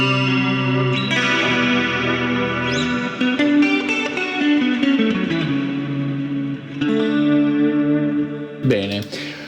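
Electric guitar played through a Quad Cortex preset with pickups, chorus and echo effects: sustained chords and picked notes ringing with shimmering modulation and reverb tails, close and fairly loud, no voices.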